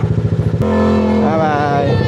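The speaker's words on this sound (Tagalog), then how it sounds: "napakaingay ng motor" A loud motorcycle engine close by, idling with a lumpy pulse and then revving into a steady, rising harmonic drone, with a voice briefly heard over it.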